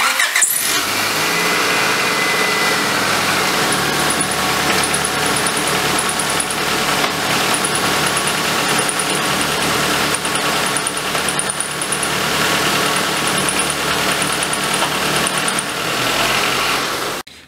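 A Honda Accord engine with a failed front motor mount starts and runs at a steady idle nearby, a continuous mid-level hum with faint shifts in tone as the car is moved between drive and reverse, no talking.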